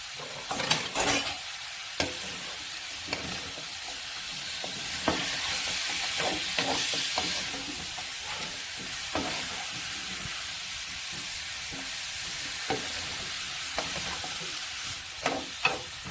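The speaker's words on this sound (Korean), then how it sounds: "참기름 이렇게 한 스푼 부으시고 이 물을 좀 볶아주세요." Radish stir-frying in a spoonful of sesame oil in a pot for beef radish soup, a steady close sizzle with frequent scraping and clacking strokes of a utensil stirring throughout.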